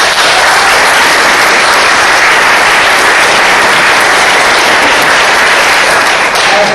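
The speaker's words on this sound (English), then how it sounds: "deserves a round of applause" An audience at a summer camp film festival screening breaks into loud, sustained applause, dense clapping from many hands that holds steady for several seconds with no speech over it.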